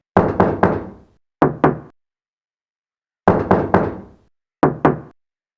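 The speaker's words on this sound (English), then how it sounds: "you can knock on the door and someone knocks back" Knocking on a door in the Silent Hill video game: a quick burst of three sharp knocks and then two more, a pause, and the same three-then-two pattern repeated, close and loud with silence between.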